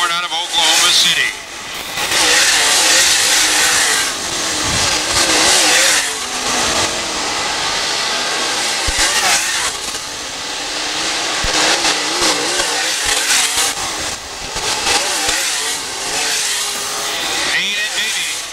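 USMTS modified race cars roaring around Valley Speedway, a dense, loud wash of engine noise surging and fading as the pack passes, with a commentator talking over it throughout.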